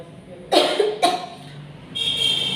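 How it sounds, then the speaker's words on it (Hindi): Two sharp coughs from a person with a seasonal cough, close and loud, about half a second apart, followed by a faint tonal hum. "खांसी हो गई है"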